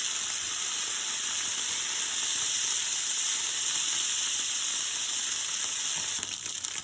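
Continuous loud sizzling of meat frying in a hot pan, a steady hiss with faint crackles throughout.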